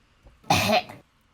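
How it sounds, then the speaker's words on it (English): One short, sharp cough, close and fairly quiet, surrounded by silence. "I think you have a cough."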